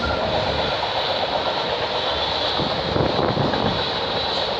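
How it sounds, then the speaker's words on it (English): A CN freight train hauling empty auto racks in Milton, Ontario rumbles past in the evening with a loud, continuous roar of wheels and cars, steady and close throughout. "This train's heading to Flat Rock,"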